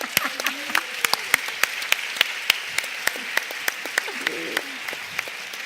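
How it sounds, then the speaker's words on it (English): An audience applauds a women's panel at a conference, producing steady dense clapping with sharp individual claps standing out and faint voices beneath. "a big applause again for 3 of you"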